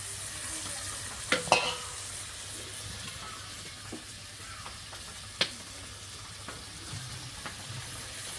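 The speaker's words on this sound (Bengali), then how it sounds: "মশলাগুলো আমি একটু এখন কষিয়ে নেব।" Spices being sautéed in a pan in a village kitchen on a rainy day, giving a low, steady sizzle with a few sharp clicks of a stirring spoon against the pan.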